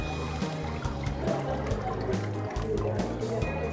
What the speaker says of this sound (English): Gotta wait for all the water to drip out.